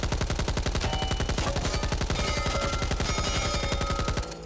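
Sustained burst of SAW machine gun fire in Back 4 Blood, a loud, rapid, evenly paced stream of shots running nearly the whole time before cutting off at the end.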